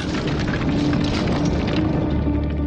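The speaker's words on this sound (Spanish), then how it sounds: "La pólvora convierte la mina en una enorme pieza de artillería que descarga su furia con una explosión de espesas nubes de polvo, piedra" A gunpowder blast in a mine, a loud, sustained rumbling roar of explosion that fills the whole stretch without a break.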